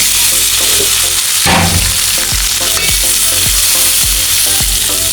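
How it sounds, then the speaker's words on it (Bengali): Bitter gourd frying in hot oil, a loud continuous sizzle with repeated scraping and stirring knocks from a utensil in the pan, no talk. "আমি এখন উস্তাগুলো ভেজে নেব"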